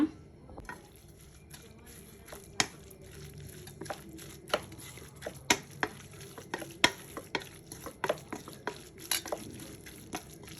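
Green chillies, coriander leaves and salt being mixed by hand in a bowl, with irregular crinkly rustles and soft sharp clicks scattered through the whole stretch, fairly quiet and close, no talking.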